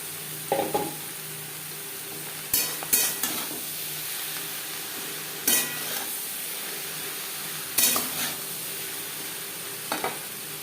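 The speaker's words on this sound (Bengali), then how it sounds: "পেঁয়াজের সাথে চিচিঙ্গা বেশ ভালো করে মিক্স করে দেবো।" Chopped ridge gourd is stirred with browned onions in a frying pan, producing a soft continuous sizzle broken by several sharp spatula scrapes and clatters at irregular intervals, close and clear, with no talking.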